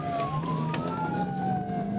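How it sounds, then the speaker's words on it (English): A police siren wails continuously during a police chase, its pitch sweeping slowly up and down, loud and close, with steady vehicle rumble underneath. "when Trooper Dobbins activated his emergency lights and sirens."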